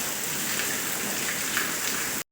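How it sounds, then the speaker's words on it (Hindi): Heavy monsoon-style rain pouring down in an Uttarakhand village at night, a dense, steady hiss of downpour on surfaces throughout, close and loud, with no talk. "ये देखिए बहुत घमासान बारिश हो रही है।"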